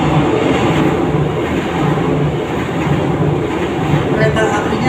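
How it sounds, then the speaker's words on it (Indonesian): Train passing on a nearby railway, a loud continuous rumble with rolling rhythmic clatter, heard close and steady. "Kereta apinya barusan lewat ini, ya, suaranya seperti itu."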